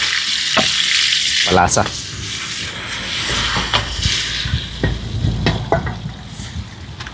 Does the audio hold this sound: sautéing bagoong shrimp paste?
yes